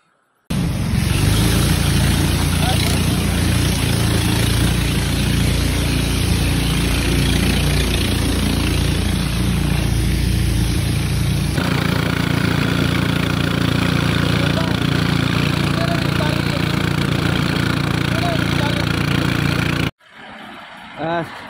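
A motorboat engine drones loud and steady throughout a boat trip, a continuous close mechanical roar that shifts tone partway through and cuts off near the end.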